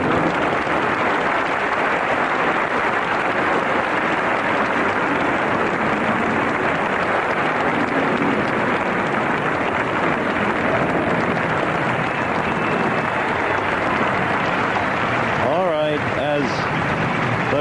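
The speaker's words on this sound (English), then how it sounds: "trophy is held aloft by Yvonne Lendl to the applause of the crowd." A crowd claps steadily and loudly throughout at the 1985 Forest Hills tennis final trophy presentation, a dense wash of applause that stays even from start to finish.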